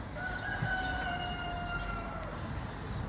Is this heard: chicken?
yes